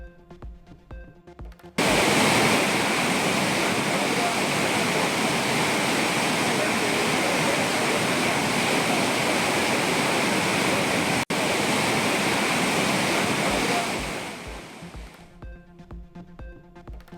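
The Courtallam waterfalls in flood after continuous rain give a loud, steady, unbroken roar of rushing water that holds for about twelve seconds before fading out.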